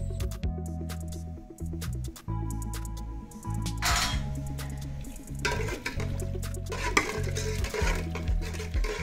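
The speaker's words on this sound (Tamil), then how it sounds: "நம்ம அரைச்சி வச்சுக்கிற லவங்கமும் ஏலக்காய் தூளும் சேர்த்து லைட்டாக கலக்கிட்டு கீழே அரைக்கலாம்." Spoon stirring ground clove and cardamom powder into warm sugar syrup in a pan for a tricolour Independence Day sweet, with steady scraping and clinks against the metal over a low simmering hiss, close and fairly loud, no talking.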